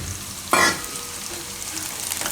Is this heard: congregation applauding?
no